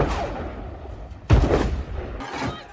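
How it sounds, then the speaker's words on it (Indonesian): Ship cannons fire during gunnery practice, with a sharp, heavy boom followed by a rumbling tail and then a second, lighter report. "Siang sampai malam hari dihabiskan awak kapal untuk berlatih menembak dan mempercepat durasi pengisian meriam kapal"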